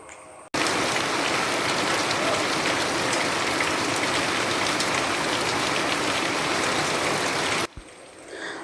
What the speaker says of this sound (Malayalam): അന്നത്തെ ദിവസം നല്ല മഴയായിരുന്നു കേട്ടോ